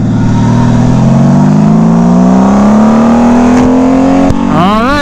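A motorcycle engine pulls hard onto a freeway, its rising revs sweeping up steadily for several seconds, loud and close, before a brief shift and fresh climb at the end.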